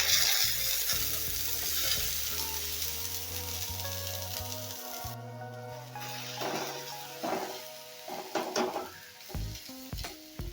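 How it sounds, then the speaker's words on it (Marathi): Amla (Indian gooseberry) paste dropped into very hot oil, giving a strong, close sizzle and bubbling frying noise with stirring scrapes and a few clinks of a utensil against the pan. "तेल कडकडीत गरम झाल्यानंतर आवळ्याची पेस्ट टाकायची आहे"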